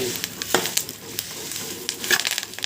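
Curry leaves frying in oil, a constant close hiss and crackle with scattered spatters and crinkly stirring noises, moderately loud and heard alone without talking.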